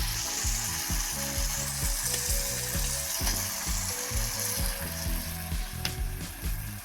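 Chicken pieces go into spice masala frying in a pan, giving a steady loud sizzle with repeated low scraping and stirring knocks throughout.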